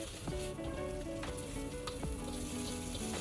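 Spicy sambal for nasi lemak fries and sizzles loudly in a pan, with a steady hiss broken by stirring scrapes and taps, under background music.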